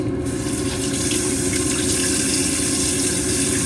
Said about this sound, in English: I'm just gonna give this thing a little rinse